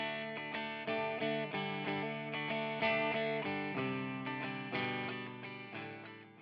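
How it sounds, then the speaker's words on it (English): Clean electric guitar through a Fender Tone Master Pro 5150 amp model with the gain turned down, a series of clear plucked chords and notes, each ringing and decaying in a steady rhythm. "Turn the gain down though, and you'll get a pretty clean signal."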